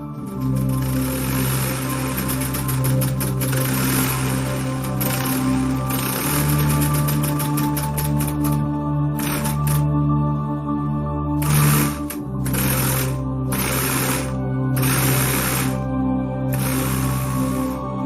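A homemade V8 solenoid engine with a flywheel attached runs steadily on its own, giving a dense, rapid mechanical clatter of pulsing solenoids. Several brief sharp bursts break in over the continuous hum, and nobody speaks.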